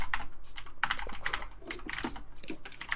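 Keys clatter on a computer keyboard during a game session, a quick uneven burst of close, crisp taps with brief pauses between words.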